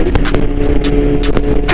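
A BMW motorcycle engine revs while riding through the city of Hiroshima, a loud, close drone with quick dips and surges as gears change, and wind rushing across the microphone.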